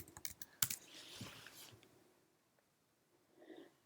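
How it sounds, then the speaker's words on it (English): Quiet typing on a computer keyboard in a terminal, a quick run of light clicks and taps that trails off into near silence. "all you need to do is type in Jupyter"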